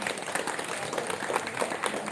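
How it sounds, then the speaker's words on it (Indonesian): An audience claps at a student fitness-exercise (SKJ) record-breaking event, a dense, steady wash of applause from a crowd, moderately loud and continuous throughout. "Boleh berikan aplaus yang meriah"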